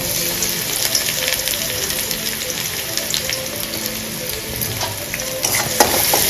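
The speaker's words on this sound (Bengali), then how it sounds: "পেঁয়াজ দিয়ে ভাজা ভাজা হয়ে যাবে" Onions frying in a pan on a home stove in a Bengali kitchen, with steady, dense sizzling throughout and a few brief stirring scrapes near the end, close and fairly loud, no talking.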